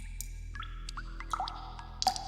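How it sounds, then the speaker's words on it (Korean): Water drops fall one by one from a ceiling in an audio drama scene, a sparse irregular series of small, clear drips over a faint steady low hum, with no voices. "쉼없이 물방울이 떨어지는 고난."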